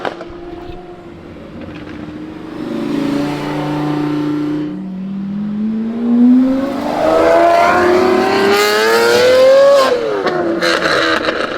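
A Lamborghini fitted with an aftermarket Gentani exhaust accelerates hard nearby, engine note climbing through rising revs with pops and crackles, loud and alone.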